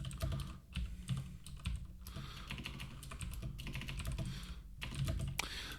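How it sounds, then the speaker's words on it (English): Steady typing on a computer keyboard at close range, a continuous run of quick key clicks with a few short pauses, with no voices. "I can type in stuff."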